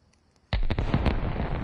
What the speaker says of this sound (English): I do like this nighttime fireworks